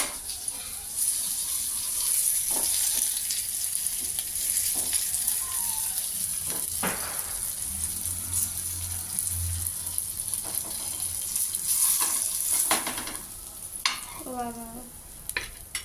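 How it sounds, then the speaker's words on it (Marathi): Pomfret frying shallow in oil on a flat tawa gives a steady broad sizzle throughout, close and fairly loud, with occasional scrapes and clinks over it and a few brief vocal sounds near the end. "मस्त अशी आपली पापलेट फ्राय होते"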